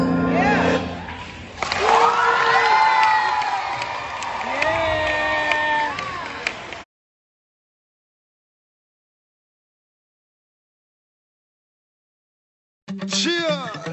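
A school crowd at a Black History assembly cheering and shouting loudly for several seconds, then a sudden cut to silence, and a brief burst of cheering returning at the end.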